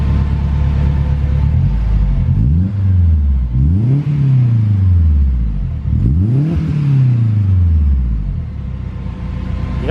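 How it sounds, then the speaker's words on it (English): A turbocharged car engine is revved hard several times up close, with each deep, loud rumble rising to a peak and sliding back down before the next rev. "You can actually hear the turbo now."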